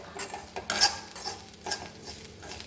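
A utensil scrapes and stirs through grated coconut roasting dry in a hot pan, short irregular strokes with a faint sizzle underneath, close by and without talk.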